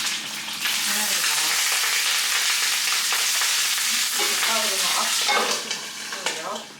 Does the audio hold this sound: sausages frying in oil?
yes